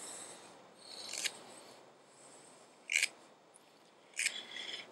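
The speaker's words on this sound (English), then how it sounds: "to dress up this spindle a little because I'm getting a lot of friction." A wooden bow drill spindle being dressed to cut friction, three short dry rasping scrapes close up, spaced a second or two apart over a quiet background.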